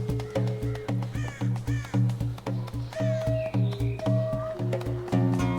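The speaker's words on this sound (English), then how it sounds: "Cozy carrion crow noises." A carrion crow caws in a steady series of loud, harsh calls, repeated roughly every half second, close by in a medieval game setting, with faint background tones.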